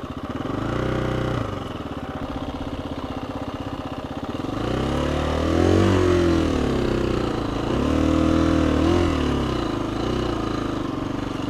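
A KTM dual sport motorcycle labours up a steep hill, its engine droning loud and close throughout, with the pitch rising and falling in surges as the throttle opens and the wheel briefly lifts.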